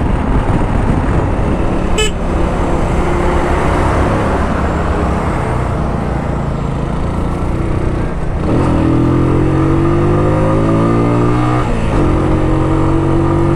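A Superlight 125 motorcycle engine hums steadily at around 6000 rpm while riding at about 80 in traffic near Şile, with wind rush, a car horn toot early on and rising engine tones later.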